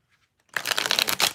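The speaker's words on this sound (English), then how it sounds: "These cards are hard to shuffle." Near silence gives way to a rapid, crisp riffle of tarot cards being shuffled, a fluttering burst lasting under a second, close by.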